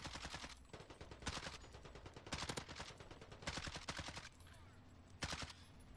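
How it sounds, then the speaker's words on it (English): Gunfire in a video game rattles on continuously in rapid automatic bursts, loud and dense, with brief gaps between volleys throughout. "I'm getting shot from behind"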